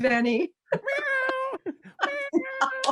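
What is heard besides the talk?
pet cat meowing in the background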